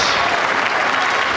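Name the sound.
crowd applauding at the Barnsley Metrodome bowling event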